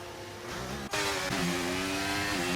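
Formula 1 race cars in a racing video game accelerate through the pit lane at Bahrain, a loud, high engine whine holding a steady pitch with a couple of abrupt cuts and gear shifts, and no talking.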